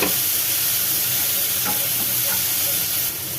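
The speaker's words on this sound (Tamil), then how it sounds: "இப்போ இதையும் சேர்த்து நல்லா வதக்கிக்கலாம்." Onions and tomatoes sauté in a pan with a continuous loud sizzle and hiss, plus a few soft stirring scrapes partway through, with no talking.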